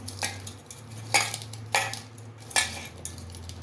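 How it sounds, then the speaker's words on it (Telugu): Sliced ivy gourd pieces being mixed with salt and turmeric, a spoon scraping through them in four separate close strokes with quiet pauses between. "ఇలా బాగా మిక్స్ అయ్యేటట్టు కలిపి పెట్టాలి"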